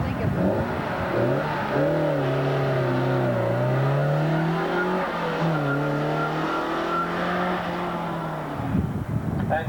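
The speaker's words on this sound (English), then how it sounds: "This is a Saab 900 Turbo running in key stock." A Saab 900 Turbo race car in stock class at a 1987 autocross event in Gettysburg, PA revs and accelerates, its engine note climbing and shifting through gears for several seconds, loud and close.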